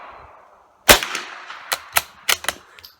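Remington 581 rifle fired outdoors: one loud, sharp crack followed by a rapid series of fainter echoing cracks and reports over about two seconds.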